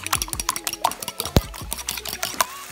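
Four eggs whisked in a bowl, a quick irregular run of light clinks and taps from the utensil against the bowl, close and fairly loud, with no one speaking.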